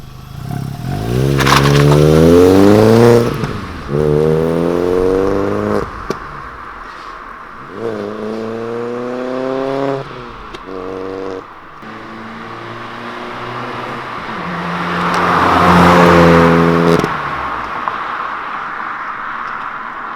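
A 1.4-litre VW Polo Vivo fitted with a Viper exhaust revs hard in loud repeated rising bursts, then pulls away with a raspy exhaust note that swells and fades as it drives off.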